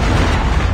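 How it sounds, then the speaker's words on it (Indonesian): A boost grenade explodes in Call of Duty Mobile, a loud, sustained low boom with broad rumble filling the whole moment, no voices over it. "Dibokong pakai boost grenade begituan cuy."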